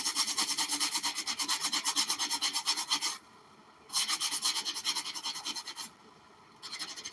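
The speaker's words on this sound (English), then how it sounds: "Now I'm going to sand it." An antique early-1900s German doll being sanded by hand, steady rapid rubbing strokes loud and close, with two brief pauses, no talking.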